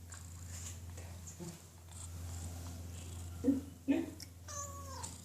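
A hungry cat makes odd, strained meows while begging for food, two short loud calls close together in the middle and a longer wavering meow at the end, over a steady low hum.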